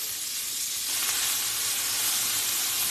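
Onions and peppers sizzle steadily in hot vegetable oil, a loud, continuous close frying hiss that holds for the whole stretch with no voices.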